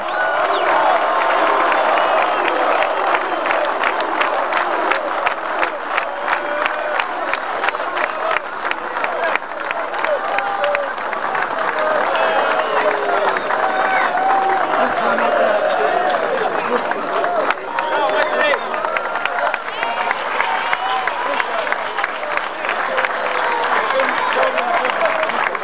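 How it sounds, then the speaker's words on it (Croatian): A large outdoor crowd applauds and cheers the winning teams at the 2003 Sandžak Games in Sjenica, with steady dense clapping and scattered shouts running throughout, mixed with talk and crowd noise. "Gromki aplauz za najbolje ekipe Novi Pazar"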